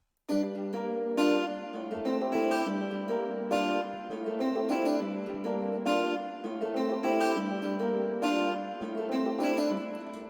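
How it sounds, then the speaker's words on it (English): Harmonic guitar chords strummed in a steady rhythmic pattern, mid-loud and continuous, layered into an Afrobeats beat with no voices. "So with the guitar, it sounds like this."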